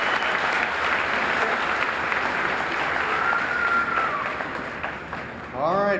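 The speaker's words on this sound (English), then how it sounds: "let's give one more round of applause to the graduates and all of the mothers." A crowd at the 2012 Jefferson College career and technical education commencement applauds the graduates with dense, sustained clapping that thins slightly near the end as a voice cuts in.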